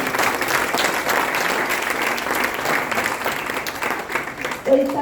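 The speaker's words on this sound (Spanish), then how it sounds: "Un aplauso para nuestro Señor Jesucristo" An audience at a church conference applauds in a dense, steady wash of many hands clapping, sustained and fairly loud throughout with a faint voice near the end.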